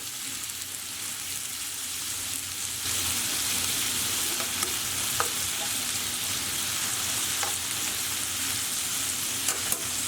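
Beef kofte frying in a pan, a steady bright sizzle with occasional faint pops and ticks, fairly close and unbroken.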